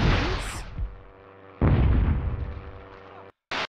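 Weapon fire in the Hogs of War video game: a loud booming blast bursts in about halfway through, rumbling and decaying over a second or two, preceded by a softer thud and followed by a short sharp pop near the end, with faint game sounds throughout.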